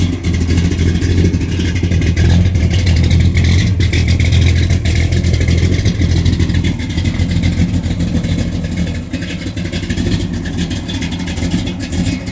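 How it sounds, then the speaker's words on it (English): Car engine idling while warming up before a test drive, a loud, close, steady rumbling drone holding for the whole stretch with slight variations in pitch. "letting it warm up a little bit before I take it out for a test drive"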